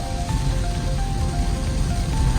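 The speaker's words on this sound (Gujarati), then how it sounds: "આવો વરસાદ તો જિંદગીમાં નહીં જોયો એટલો વરસાદ છે ભાઈ" Heavy rain mixed with hail falls near Dharampur, a dense, steady hiss and patter of downpour, loud and close throughout with no voices.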